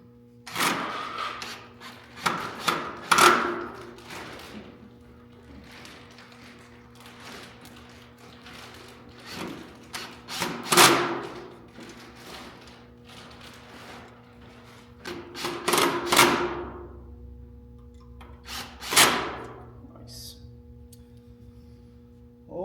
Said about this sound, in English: let's get them screws in